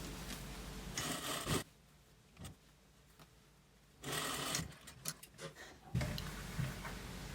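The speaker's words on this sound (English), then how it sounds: "Match the seams together and sew across 1/2 inch." A sewing machine stitches across matched seams at half an inch, running in three short bursts of steady whirring with quiet pauses between them.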